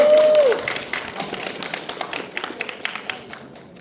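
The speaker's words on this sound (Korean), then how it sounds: "박수로 가시해주세요" An audience at a university prize-draw event claps to welcome the student council president, a brief tone fading as scattered, uneven claps taper off over a few seconds.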